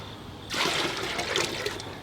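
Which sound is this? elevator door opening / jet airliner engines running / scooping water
scooping water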